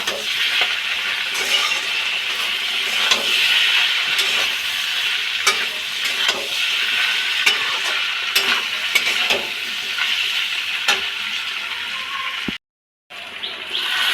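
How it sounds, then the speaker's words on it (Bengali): Ginger, cumin, chili and garlic pastes sizzle loudly in a frying pan as a spoon stirs them, making a dense continuous crackle dotted with scraping clicks that cuts out briefly near the end. "আদা বাটা, জিরে বাটা, লঙ্কা বাটা, রসুন বাটা দিয়ে ভালো করে আমি নেড়ে চেড়ে নেব।"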